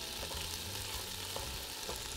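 Onion frying in butter in a pan for beef stroganoff, a steady dense sizzle with a low hum beneath and a few faint clicks, no voices.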